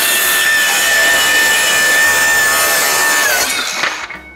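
A power saw bites steadily through wood with a loud, continuous whining rasp for about four seconds, then winds down as the cut finishes.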